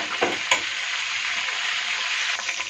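Chicken pieces browning in a frying pan for a chicken and mushroom sauce, giving a steady, close, loud sizzle throughout with a couple of brief stirring clicks near the start.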